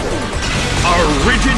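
An attack lands in Pokémon Battle Revolution with a loud crashing impact in a Colosseum battle. Whooshing effect sounds sweep around it, and an announcer's voice is heard over the hit.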